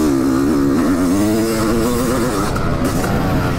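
A Honda 500 CR two-stroke motorcycle engine, lightly throttled with the clutch in, runs loud and close with a throbbing, wavering rev that rises and dips steadily throughout.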